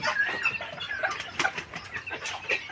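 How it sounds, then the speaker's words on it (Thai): A hen of the old-style Saramo breed clucks close by in short, repeated bursts, alone and fairly loud. "นี่เป็นแม่ไก่ทรงเดิม"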